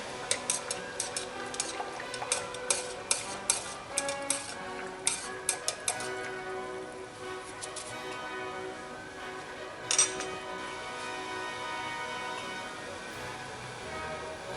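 Green dye being stirred for colouring Lycra spandex: a run of sharp ticking clinks against a container in the first six seconds, one louder clink near ten seconds, then a quieter, steady background.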